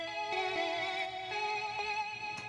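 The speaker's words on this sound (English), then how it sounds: "It literally sounds like a Nokia ringtone, like notification." A cheesy, bright synth bell preset from the Wave State instrument plays alone and dry, its tinny, ringtone-like tones repeating in a steady pattern with sustained harmonic overtones.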